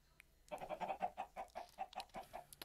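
Chickens in the Minecraft video game cluck in a quick, rhythmic run of short, clear calls that continue for a couple of seconds, with no talking.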